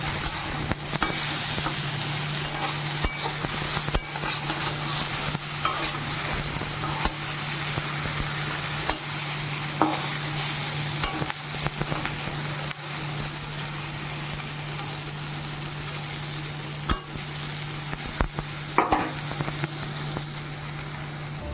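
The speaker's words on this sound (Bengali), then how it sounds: "বেগুনটাকে ভাজা চাপিয়েছি" Eggplant frying in a pan on a home stove, giving a continuous soft sizzle with occasional stirring scrapes over a low steady background hum.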